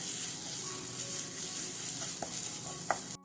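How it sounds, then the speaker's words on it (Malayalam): Spice powder masala sautéing on a low flame in a pan gives off a steady, faint sizzle with a few soft scrapes and a single sharper tap near the end. "ഇനി ഈ ഒരു പൊടികളുടെ പച്ചമണം നന്നായിട്ടൊന്ന് മാറി വരുന്നവരെ ഒരു ലോ ഫ്ലെയിമിൽ വെച്ചിട്ട് ഒന്ന് വഴറ്റിയിട്ടെടുക്കാം"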